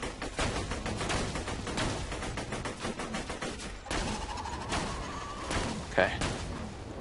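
Rapid gunfire erupts from behind the player in the video game Borderlands 2, a dense barrage of loud shots and bursts that runs almost continuously, with a voice talking over it.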